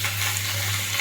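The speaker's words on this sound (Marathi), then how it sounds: "तेलावर आलं लसूण आणि कढीपत्त्याची फोडणी द्यायची" Ginger, garlic and curry leaves tempering in hot oil give a brief, steady, loud sizzle with a faint low hum underneath and no voices.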